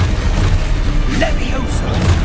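A deep, booming explosion from the Confringo fire spell in Hogwarts Legacy, a heavy low rumble lasting a couple of seconds, mixed with game effects and a voice.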